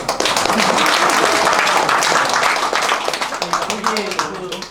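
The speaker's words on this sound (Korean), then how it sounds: "박수 한번 더 쳐주시기 바랍니다" A roomful of people claps at a local township meeting, dense applause starting at full strength and continuing steadily before thinning into scattered claps at the end, with voices mixed in underneath.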